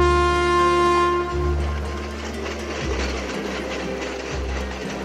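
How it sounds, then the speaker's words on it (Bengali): A Katwa–Azimganj local train at Jhamatpur Baharan station opens with a long sustained horn tone, then a low rumbling drone with a couple of dull thumps, fairly close and without talk. "ট্রেন এসে থামলো ঝামাতপুর বহরানে, আর এর পরবর্তী স্টেশন হচ্ছে সালার।"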